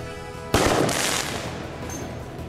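A 4th of July firework explodes in one sudden loud blast, followed by a crackling rush that trails off into a fading rumble.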